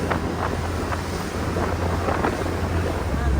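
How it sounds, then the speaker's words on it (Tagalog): Strong waves around a small boat off El Nido, with steady loud wind buffeting and rushing water throughout and no talk. "Lakas ng alon na"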